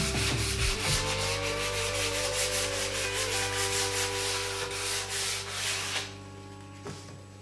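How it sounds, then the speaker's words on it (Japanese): Hand sanding of a ZZR400 motorcycle swing arm with 400-grit sandpaper, a close, steady rhythmic scrubbing of repeated back-and-forth strokes that fades out near the end. "400番で磨いていきます"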